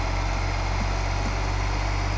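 A low-powered tractor idles in the Farming Simulator 2015 video game, giving a steady, continuous low rumble with a constant droning hum and no change in pace or loudness, and no voices over it.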